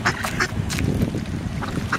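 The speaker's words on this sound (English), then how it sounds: "lots of crazy ducks here." A few duck quacks ring out close by in quick bursts, separated by short pauses over a low outdoor rumble.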